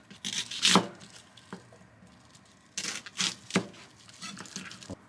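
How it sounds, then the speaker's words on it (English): A kitchen knife cuts a quarter onion into wedges on a board in two bursts of short, crisp chops and slicing scrapes. The cuts are close and fairly quiet, separated by a pause of near silence. "cut quarter of onion into wedge"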